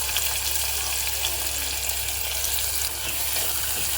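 Chopped onions for a bhindi fry frying in hot oil in a home kitchen pan, a steady broadband sizzle holding evenly throughout at close range with no talk.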